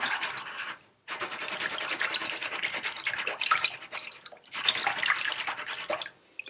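Wet scrubbing of a mouldy beeswax wrap in running water, a steady splashing and rubbing wash close by with two brief pauses.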